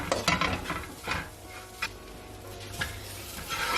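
Ingredients stirred in a pan make close, irregular scraping and clinking from the spoon, with a soft sizzle underneath; no voices.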